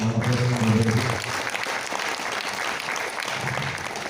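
Audience applause breaking out at an Indonesian testimonial event for Kangen Water, steady dense clapping lasting several seconds over a low hum, with a voice briefly heard at the start.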